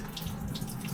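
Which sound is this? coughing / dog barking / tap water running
tap water running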